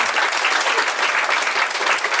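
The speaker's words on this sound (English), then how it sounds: "one more round of applause for Montana Governor Bullock." Loud, dense applause from a large crowd for Montana Governor Steve Bullock fills the whole stretch, a continuous roar of clapping with no pause.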